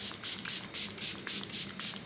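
Short hissing spray bursts repeat in a steady rhythm, close and fairly quiet, with no talking.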